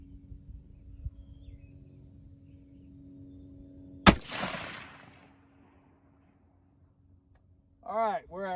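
A single sharp rifle shot from a Savage .308 Winchester firing a 180-grain bullet, loud and close, followed by a fading echo; a steady background hum before it and a short voice near the end.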